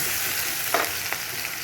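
Onion paste frying in a pan, an even close sizzle with a couple of brief stirring scrapes, no talking.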